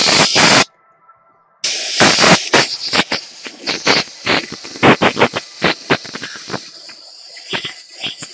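Spray paint applied to a t-shirt, heard as a long close hiss that cuts out briefly and then returns as repeated short spray bursts, with no talk.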